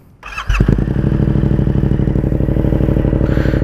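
A warm Yamaha MT-07 motorcycle with an Akrapovic carbon exhaust, baffle removed, fires up with a short starter whir and settles into a loud, close, steady lumpy idle with a throbbing pulse.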